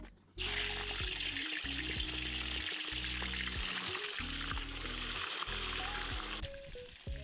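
Meat thrown into a smoking-hot kazan for shashlik sizzles in a loud, steady hiss that starts abruptly and holds for several seconds. A low rhythmic hum pulses underneath, and no one speaks.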